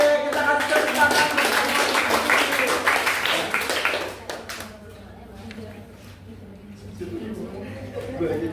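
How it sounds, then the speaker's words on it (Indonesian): A classroom of children applauding together after naming the parts of a plant, a dense burst of clapping lasting about four seconds before fading into scattered claps and room noise, with voices in the background. "Kita kasih tepuk tangan."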